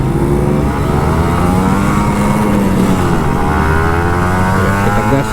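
A Kawasaki Ninja RR 150 two-stroke motorcycle revs and pulls away on the road, its engine buzzing loud and close with rising and falling pitch over continuous wind rush.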